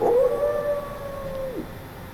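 A single long wolf howl, close and loud, holding one steady pitch before falling off sharply at the end, followed by quiet.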